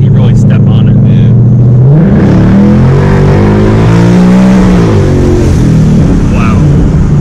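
A supercharged Whipple 2018 Mustang GT accelerates hard: a loud, close engine roar rising in pitch through a gear change, with the whine climbing steadily while people talk in the car.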